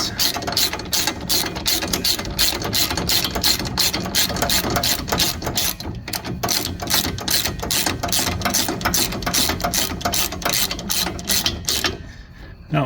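A ratchet socket wrench cranked rapidly to tighten bolts during repairs on a daily-driver car, a loud, close, fast run of clicking strokes in a steady rhythm, broken by a brief pause near the middle.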